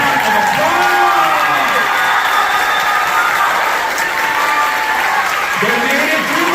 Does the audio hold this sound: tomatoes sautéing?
no